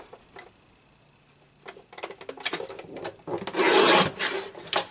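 A paper trimmer slices through an 8.5 by 11 sheet of cardstock with a dry, raspy sliding scrape that builds to a loud stretch near the end, after a few light ticks and taps.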